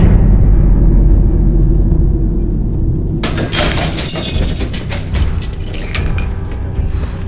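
A heavy low rumble runs throughout. Partway in, glass shatters with a loud crash that breaks into a long spray of tinkling, scattering shards in a staged smashing effect. No voices are heard.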